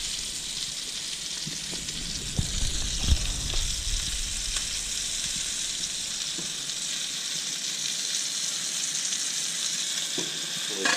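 A live lobster dropped into a pot of boiling salted water gives a loud splash and crackle, then a steady hissing bubble of the rolling boil continues alone, close up.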